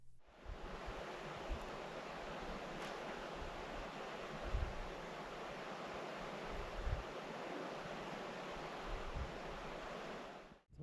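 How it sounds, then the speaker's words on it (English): Steady broadband rush of flowing water trickling down at the end of a canyon, like a small stream nearby, continuous with a few soft low thumps. "A little bit of water just trickling down from all this."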